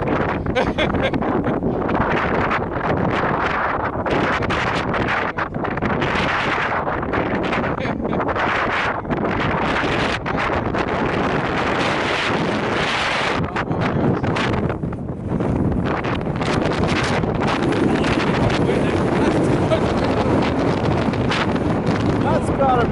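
Strong wind roars and buffets the microphone the whole time while riding an ice boat at speed, a loud, constant rush with voices partly buried beneath it.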